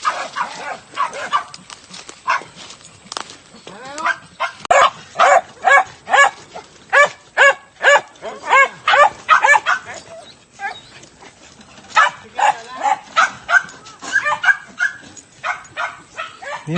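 A dog barks repeatedly in rapid bursts close by, with yips and whimpers mixed in, during a motorbike long ride through rural Pampanga; people talk faintly at times.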